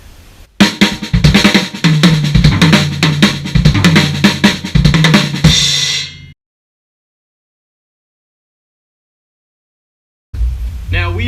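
A drum kit plays a right-right-left-left-kick triplet lick, shifts it out of place and then settles back into it, with dense, loud, rapid strokes for about six seconds before stopping into silence, then resuming briefly at the end.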